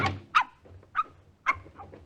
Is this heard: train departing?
no